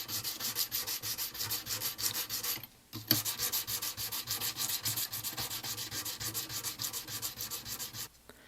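Classical guitar frets sanded by hand with 320 grit sandpaper wrapped around a rubber eraser, a steady fast back-and-forth rasping rhythm, close and quiet, broken by two brief pauses.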